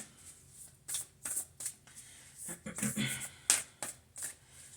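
Rapid riffling and flicking of Starseed Oracle cards being shuffled by hand, in uneven bursts with brief gaps, close and crisp with a couple of sharper slaps.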